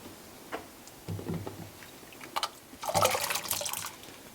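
Washed potatoes going into a pot of boiling water, a few soft splashes and plops followed by a louder burst of bubbling and splashing near the end, fairly close and quiet.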